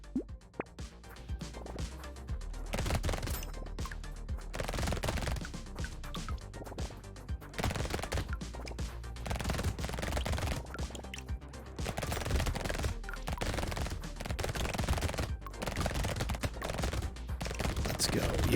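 Rapid, dense SMG fire rattles continuously in the Brotato arena game, with popping hits layered over a loud, unbroken stream of shots as someone talks over the action.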